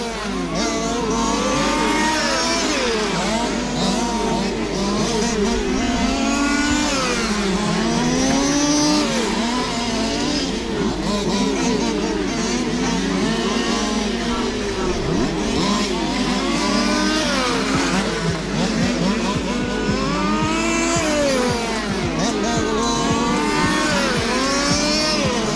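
Large-scale 1:5 RC cars race around a track at the Ulster TT meet at Craigavon Model Car Club, small engines revving and buzzing continuously, several passing and overlapping at high pitch, loud and steady throughout without talk.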